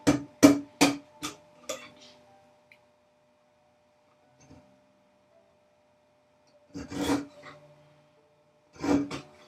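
A chisel cleans up a tapered sliding dovetail in wood, making a quick series of sharp scraping taps. A near-silent pause follows, then two more short rasping strokes.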